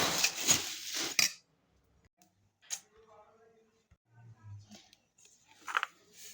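Chivda ingredients are stirred with a spoonful of salt in a pan, giving a short burst of scraping and clinking of metal at the start, followed by a few faint, scattered taps and rustles.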